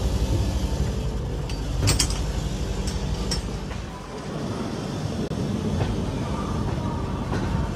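The Vidarbha Express pulls into a busy Nagpur station, a continuous low rumble of rolling rail cars with scattered metallic clinks and rattles. The sound dips briefly midway, then carries on steadily.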